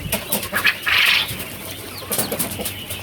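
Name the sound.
turkeys on a farm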